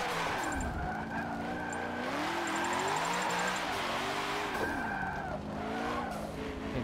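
Race car in Forza 7 braking hard on the Dubai circuit, its tires squealing in a long wavering skid over a steady engine drone, loud and close with no talk.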